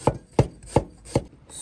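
A kitchen knife chops fresh ginger on a cutting board, four firm, evenly spaced knocks sounding close and clear with no voices.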